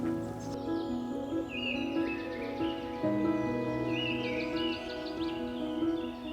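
Birds call from trees beside a misty lake, clear tonal chirps and short whistled phrases repeating at moderate distance over a quiet, steady background, with no voices.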